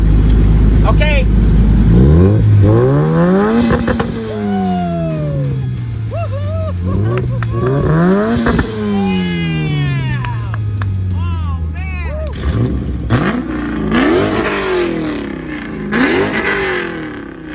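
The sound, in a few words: JDM car engine revving, exhaust note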